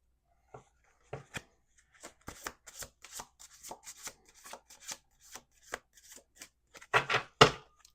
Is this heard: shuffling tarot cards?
yes